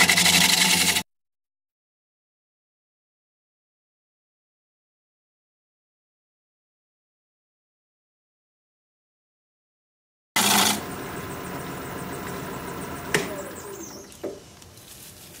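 A 5/8 inch bowl gouge hollows a maple bowl spinning on a wood lathe: a brief burst of cutting noise, then a long silence, then a steady, rough, scraping cut that runs to the end, with a few sharper catches.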